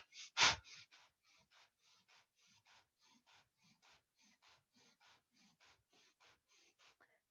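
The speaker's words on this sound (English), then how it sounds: "we will do 50 Kapalabhati, rapid exhales" Kapalabhati breathing exercise: after one strong opening breath, a long run of short, forceful nasal exhales follows at a steady, quick rhythm, each a soft puff of air, close and alone without talk.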